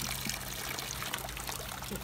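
Fresh water scooped and poured at the seashore, a faint continuous trickle and splash under quiet background noise.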